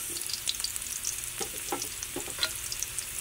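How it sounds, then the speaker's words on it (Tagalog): Garlic and onion hit hot oil in a home dirty-kitchen pan, a steady close sizzle with scattered spatter crackles and a few scraping stirs, no one speaking. "Dahil mainit nating mantika guys, ilagay na natin ang ating bawang at saka sibuyas."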